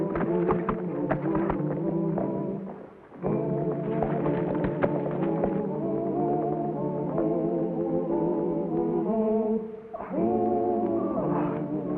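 Horses gallop off with robbers in a 1950s western scene, hooves clip-clopping in a steady rhythm under a dramatic orchestral score that swells and dips, the hoofbeats fairly faint beneath the music.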